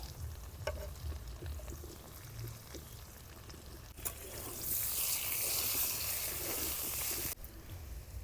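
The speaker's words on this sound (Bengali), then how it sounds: "পেঁয়াজ দিয়ে আরো 5 মিনিট ভাজে নিলাম।" Onions and green chillies fry with potatoes in a pan. A low, soft crackle gives way to a loud, broad sizzling hiss lasting several seconds before it drops back down. It is close and there is no talk.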